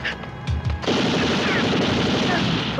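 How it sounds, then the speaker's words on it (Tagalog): Sustained, rapid gunfire in a Filipino comedy film action scene erupts loudly and continuously after a brief shout, forming a dense, unbroken crackling barrage. "May putukan!"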